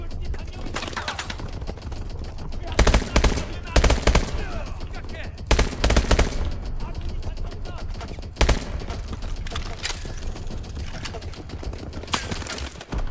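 Rapid automatic gunfire from Call of Duty: Advanced Warfare rattles through a dense in-game battle, with loud bursts repeatedly punching out of a constant noisy backdrop.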